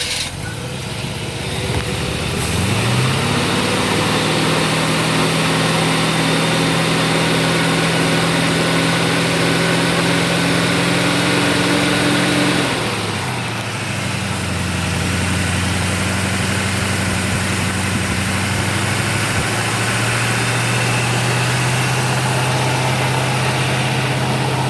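A 327 small-block Chevy, built from a 350 block with a 307 crankshaft, runs on its first start for camshaft break-in: a loud, steady, rumbling V8 that sags briefly midway, then settles to an even, held speed.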